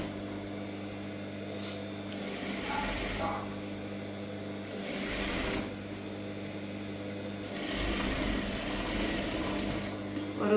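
Sewing machine stitching a saree blouse with lining fabric, running in several short stretches of steady whirring, fairly quiet and close, with pauses between runs.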